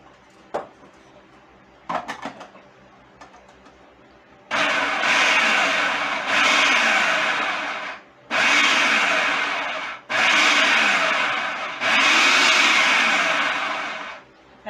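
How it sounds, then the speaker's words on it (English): A food processor chops cabbage in four short pulses, each a loud, whirring burst of about two seconds with brief gaps between, preceded by a few small clicks and knocks. "if you're wondering why I'm pulsing it like this instead of actually using the shredder blade"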